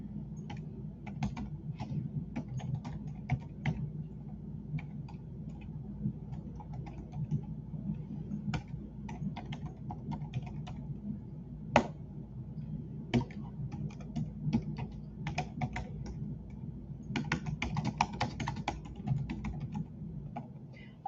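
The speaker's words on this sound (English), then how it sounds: "I'm going to just type something in the chat." Keystrokes on a computer keyboard while typing a chat message, a quiet, uneven stream of close, light clicks and taps over faint room hum, with no talking.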